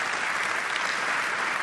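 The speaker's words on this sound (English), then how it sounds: "Absolutely deserving of the applause." Audience applause for an award winner at a Champions League ceremony event, a dense, steady wash of clapping from a large crowd, loud and continuous throughout.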